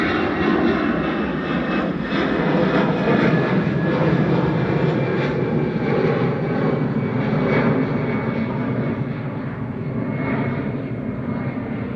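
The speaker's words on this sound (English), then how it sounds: "And this is EasyJet departing to Palma" An EasyJet airliner departing Manchester Airport for Palma, its jet engines giving a loud, sustained roar that holds steady throughout and fades only a little toward the end, with no talk.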